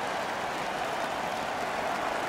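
Arena crowd noise from the video game NHL 15, a home hockey crowd cheering steadily during a Montreal Canadiens vs Minnesota Wild game, a dense, continuous roar held at an even level throughout with no talk.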